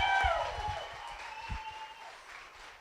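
Audience applause at a community gala fills the hall, a steady wash of clapping with a sustained tonal hum beneath it, loudest at the start and easing slightly toward the end.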